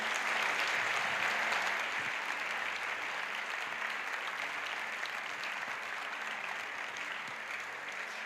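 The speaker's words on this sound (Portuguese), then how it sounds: "você pode aplaudir mais forte" A church congregation applauds loudly and continuously, a dense wash of many hands clapping that fades slightly toward the end.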